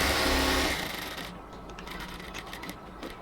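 Sewing machine stitching a luxury cotton kameez, a steady close mechanical whir that runs loudly at first, then drops back to a lighter, faster patter of stitching with no talk.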